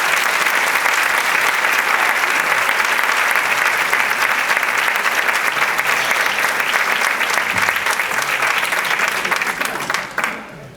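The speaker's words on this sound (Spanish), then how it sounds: "Vamos a invitarla y a recibirla con un fuerte aplauso." Sustained, loud audience applause at a community festival welcoming a speaker, steady clapping throughout that thins and fades out near the end.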